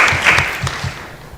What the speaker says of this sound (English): panelists, kindly stand up and we'll give you a round of applause.